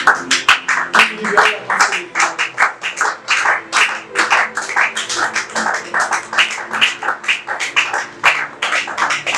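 A church congregation at a worship service breaks into loud, sustained applause, dense rhythmic clapping from many hands filling the room without pause.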